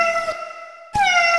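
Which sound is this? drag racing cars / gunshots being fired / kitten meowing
kitten meowing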